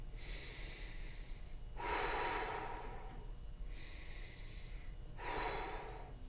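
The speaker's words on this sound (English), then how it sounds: "And then I would take some breaths." A person taking slow deep breaths, two long audible inhales spaced a few seconds apart with quieter exhales between, close and soft, with no talking.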